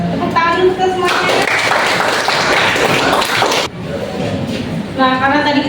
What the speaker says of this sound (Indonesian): Tepuk tangan dulu ke semuanya.